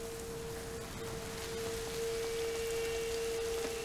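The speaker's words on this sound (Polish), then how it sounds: "no co pada deszcz" Rain falls steadily in A Plague Tale: Innocence, a soft continuous hiss of drops heard alone over a low steady tone, holding level and rising slightly toward the end.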